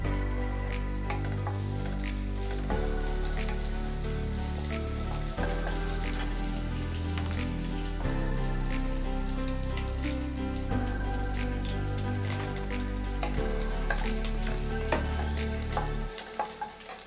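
Chopped garlic sizzles and crackles steadily in hot oil in a pan, loud and close, with continuous dense frying noise for the whole stretch and no talk.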